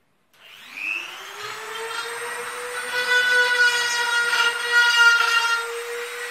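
A Dremel rotary tool mounted in a homemade router attachment for wood carving spins up and settles into a steady, fairly close high-pitched whine with a slightly wavering tone.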